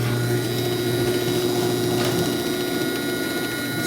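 A Chamberlain C253 chain-drive garage door opener runs close by with a steady mechanical whir and rattling chain-and-sprocket clatter, continuous and even throughout.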